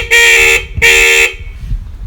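Two loud, harsh blasts from a fairly old Honda CD 70 motorcycle horn, each about half a second long with a short gap between them, close by, followed by low rumbling background noise.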